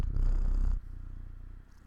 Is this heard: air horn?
no